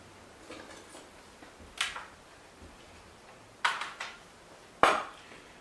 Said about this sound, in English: I'm going to cut some very, very thin slices.